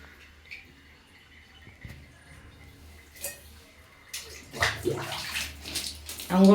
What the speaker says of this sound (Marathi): गरम गरम पाण्याने आम्ही आंघोळ करणार बाबूला